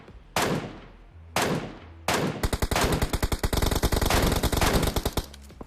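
Gunfire from a battle royale video game: three heavy single shots spaced about a second apart, then a rapid automatic burst of loud, sharp reports rattling steadily for several seconds with no talking.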